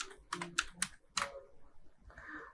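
Quick bursts of typing on a computer keyboard, a few close clicky keystrokes in short clusters with brief pauses, quiet room, no talking.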